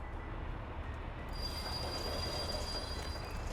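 Freight train in the Soviet Republic city-building game Workers & Resources, a steady rolling rumble with a long high wheel squeal setting in partway through, continuous and fairly distant, no speech.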